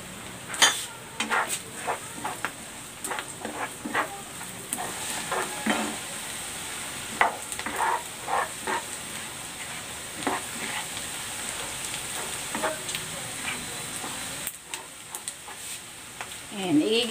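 Garlic and onion frying in a pan give a continuous sizzle with frequent scraping stir strokes and light utensil clicks, with a faint voice here and there, ending in a brief louder clatter.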